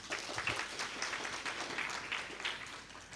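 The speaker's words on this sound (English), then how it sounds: "Please give yourself a big round of applause." Conference audience applauding after a plenary session introduction, a dense, sustained wash of many hands clapping at moderate distance that continues evenly from start to finish.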